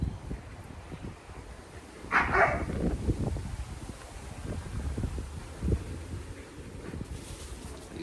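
Several dogs bark in scattered bursts at mid distance, the loudest cluster in the middle, over steady outdoor wind rumble buffeting the microphone.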